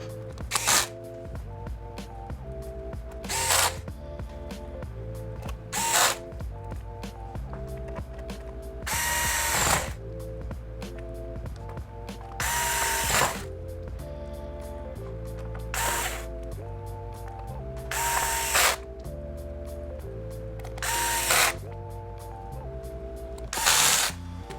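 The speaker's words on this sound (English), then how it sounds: "put the screws back into the bottom" An electric screwdriver drives screws back into the bottom cover of an HP Chromebook 14 G6, giving repeated short loud whirring bursts with ratcheting clicks, separated by quieter handling pauses.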